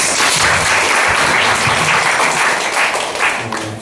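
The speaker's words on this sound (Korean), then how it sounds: "역시 박수 부탁드립니다." An audience at a youth-group discussion forum at a summer camp applauds steadily and loudly throughout, with dense sustained clapping that tapers slightly toward the end.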